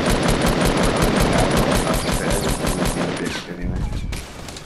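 Gunfire in the video game Fortnite: a dense, loud, rapid stream of shots fired in quick succession for several seconds, thinning into a few separate bursts toward the end.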